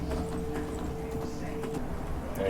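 Horse hooves clip-clop steadily in Skyrim on a mountain path, a continuous rhythmic plodding beneath game ambience and a voice.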